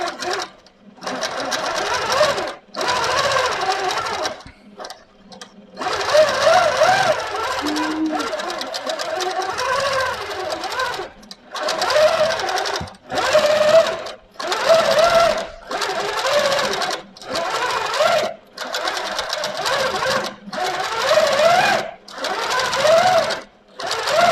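An Amara ST longarm quilting machine stitches loudly and close by in a steady mechanical hum, started and stopped repeatedly in bursts of several seconds with short silent gaps.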